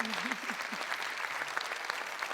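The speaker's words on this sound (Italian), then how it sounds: "un mega applauso per tutti e 6 concorrenti e per chi li ha accompagnati" An audience at a Neapolitan talent show applauds the contestants with steady, dense clapping that lasts throughout, with a voice briefly audible at the start.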